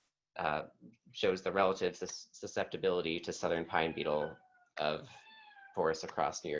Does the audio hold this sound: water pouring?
no